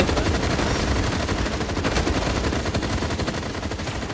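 Gunfire from the online shooter game FragPunk: a loud, dense, unbroken stream of rapid automatic shots and blasts runs through the whole stretch, with no talking.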